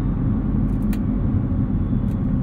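A 2023 Nissan GT-R's engine holds a loud, steady, deep rumble at the line under launch control, close and continuous with no talking.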